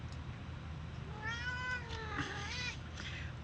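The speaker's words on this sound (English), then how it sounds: "What you're hearing is Lily saying hello mid-recording." A pet cat meows indoors, one drawn-out, rising-and-falling call followed by a shorter second meow, fairly close over a steady low hum of room noise.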